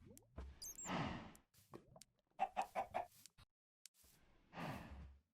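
Minecraft chickens in the All The Mods 4 modpack, giving a quick series of four soft clucks mid-clip, framed by breathy game ambience and other short effects.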